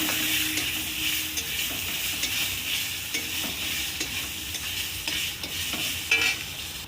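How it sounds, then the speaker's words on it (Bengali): Mustard seeds, dried chillies and two large bay leaves sizzle and crackle in hot oil in a wok, a continuous bright frying hiss with scattered pops and stirring scrapes, close and steady. "আম ডাল করার জন্য কড়াতে সর্ষে ফোড়ন দিয়ে দেব, শুকনো লঙ্কা, 2টো বড় বড় তেজপাতা"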